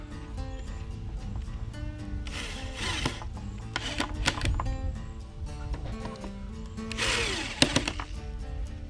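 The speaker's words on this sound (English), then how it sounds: "the top is just going to screw in to the back of the support. So if I screw these in," Power tool driving screws to fasten a wooden seat top into its 2x4 back support, a close mechanical whirring with short bursts and a few knocks and rattles, no talking.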